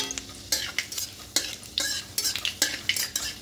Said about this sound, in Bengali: দিয়ে একটু হালকা করে নাড়াচাড়া করে ভেজে নেব।